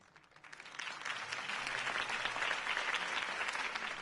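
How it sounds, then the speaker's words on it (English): Crowd applause in the Batman Telltale video game after Harvey Dent's campaign speech, swelling from quiet to a dense, sustained roar of clapping that holds steady to the end. "If only Mr. Wayne, my campaign's largest backer, could have heard that applause"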